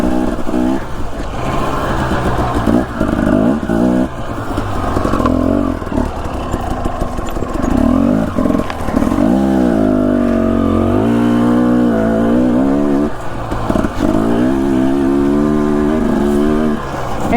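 A dirt bike engine revs loud and close while riding in Idaho, rising and falling through repeated throttle blips with a rough, buzzing exhaust note and brief sputters between revs.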